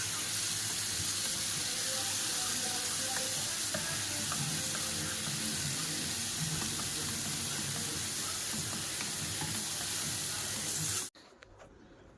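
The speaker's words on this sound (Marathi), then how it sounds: "आता तव्यावर ठेवते फ्राय करायला" Steady, loud sizzling of marinated chicken pieces frying in a little oil on a hot griddle, a constant hiss with small pops, cutting off abruptly near the end.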